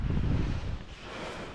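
Gusty wind blowing outdoors in a garden, a loud low rumble buffeting the microphone, easing briefly and then returning.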